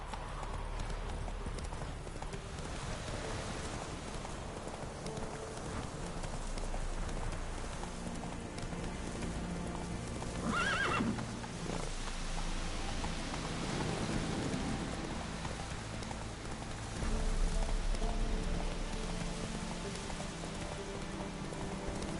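Hooves of the horse Roach clop in a steady galloping rhythm in a video game, set against rain and low rumbles, moderately loud throughout with no clear neigh.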